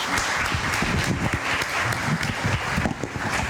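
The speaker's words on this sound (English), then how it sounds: "Let's give him one more round of applause" Audience at a Rotary meeting giving a presenter a round of applause, continuous close clapping from a roomful of people with no talk over it.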